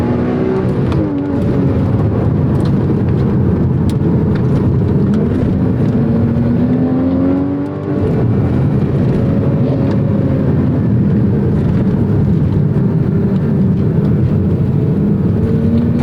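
A Porsche Cayman six-cylinder engine drones steadily at speed, rising and falling gently as it accelerates and shifts, loud and continuous from inside the cabin.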